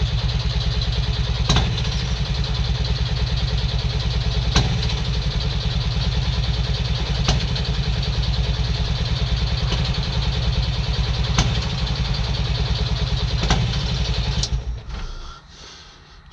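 The small donkey starter engine on a Belarus DT75 crawler tractor runs steadily with a bit of throttle, a loud close chugging drone with periodic sharp clacks, before winding down at the end.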